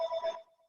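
A second phone rings briefly nearby during a Zoom meeting, a short electronic ringtone burst that cuts off and leaves a faint lingering tone.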